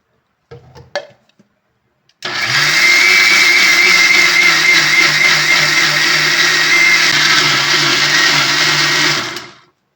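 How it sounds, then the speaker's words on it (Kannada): A kitchen mixer grinder runs on soaked rice and water for idli batter: a brief clatter, then a loud, continuous motor whine with a grinding hum that holds steady for several seconds before cutting off. "ಸ್ವಲ್ಪ ಸ್ವಲ್ಪ ನೀರು ಹಾಕ್ಕೊಂಡು ಒಂದೆರಡು ಸತಿ ರುಬ್ಕೊಳ್ಳೋಣ"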